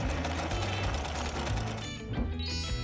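A sewing machine stitches a new outfit with a fast, steady mechanical whirring and rattling hum that runs without a break, close and fairly loud.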